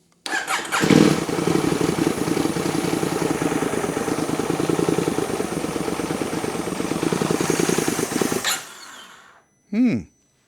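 An ECU-remapped KTM 790/890 Adventure motorcycle engine cranks and fires up loudly, then idles with a rough, close, steady rumble before cutting off, followed by a brief separate tone.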